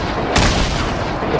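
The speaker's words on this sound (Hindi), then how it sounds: "grenade launcher, grenade launcher" A grenade launcher fires in Fortnite, one loud, close boom punching through a dense, noisy game soundscape.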